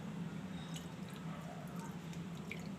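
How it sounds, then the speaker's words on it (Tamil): Banana flower pakoda dough is kneaded by hand with a light sprinkling of water, giving faint, soft, wet squishes and drips that continue steadily and close by, with no talking. "இப்போ நம்ம லைட்டாக தண்ணி தெளித்து பசஞ்சிக்கலாம்"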